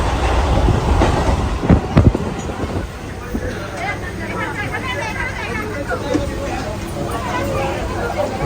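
Loud rumble and rattle of a moving train, with clattering wheels and a babble of passengers' voices over it.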